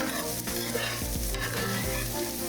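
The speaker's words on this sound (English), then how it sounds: "we're just gonna give that an extra stir" Food sizzles loudly in a pan, with a few distinct scrapes and clinks as it is stirred, close up and with no voices.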